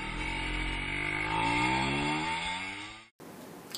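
A motorcycle revs and pulls away, its buzzing engine note climbing in pitch and holding loud before cutting off abruptly.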